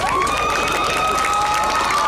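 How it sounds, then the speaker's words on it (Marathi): School students in an audience clapping steadily, a dense continuous burst of applause with some cheering mixed in, close and loud throughout. "मी अनाऊन्स करते तसं टाळ्या वाजवल्यात तर मुलांना प्रोत्साहन मिळेल"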